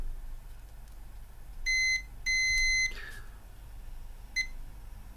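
A multimeter in diode mode beeps in short tones, a brief beep, a longer one, then another quick beep, faint over a low background hum while probing an amplifier for a short.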